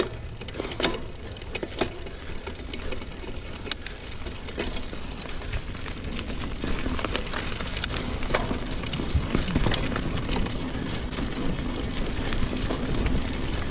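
A Mongoose Durham 26-inch mountain bike drivetrain, pedaled in fourth and fifth gear, produces continuous rattling, grinding chain noise with irregular clicks and knocks throughout. It is close and steady, with no talking.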